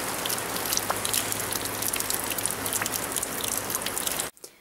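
Steady rain pattering on a surface, dense and close, with scattered drips, continuing for several seconds before cutting off abruptly.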